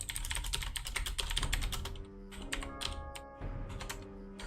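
Fingers type quickly on a computer keyboard in rapid bursts of clicking keystrokes with short pauses between, close and fairly quiet with no voices.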